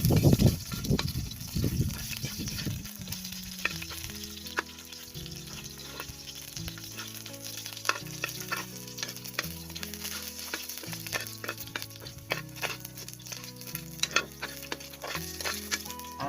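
Garlic frying in oil in a pan, a steady close sizzle and crackle running throughout, with faint clicks and a brief stir of movement at the start; no one speaks.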